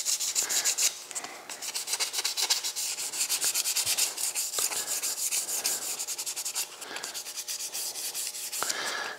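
Rhythmic back-and-forth hand block sanding scrapes across urethane primer on a 1951 shoebox car body, close up and steady, with brief pauses between strokes.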